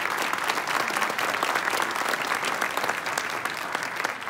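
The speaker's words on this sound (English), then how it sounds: "give Kim a round of applause" Steady audience applause fills a graduation ceremony hall for a LaunchCode alumna, dense and even clapping sustained throughout with no talk over it.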